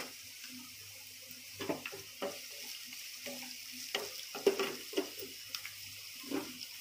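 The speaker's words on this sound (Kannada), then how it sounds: "ಈರುಳ್ಳಿನ ಹಾಕ್ತಾ ಇದ್ದೀನಿ ಕರಿಬೇವು ಹಾಕ್ತಾ ಇದ್ದೀನಿ" Onion and curry leaves fry in a pan with a faint, low sizzle, marked by several soft stirring clatters and scrapes spread across the clip and no talking.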